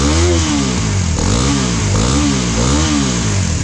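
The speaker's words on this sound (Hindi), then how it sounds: "ये रही हमारे एक्सपल्स 210 का एग्जॉस्ट साउंड" A Hero Xpulse 210 motorcycle fitted with a dB killer revs as the throttle is blipped, its exhaust rising and falling in repeated loud, close engine swells.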